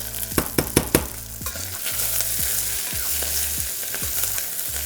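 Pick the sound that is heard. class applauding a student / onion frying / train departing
onion frying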